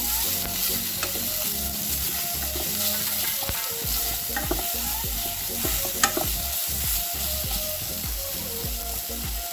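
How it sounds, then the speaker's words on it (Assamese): A mixture of dates, jolokia chili and salt for a tulsi leaf sauce is stir-fried in a pan, giving a continuous sizzle broken by repeated scraping and knocking of a spatula, close and without talk. "এতিয়া মই এইখিনি ভাজি লওঁ, ৰঙা হ'ব"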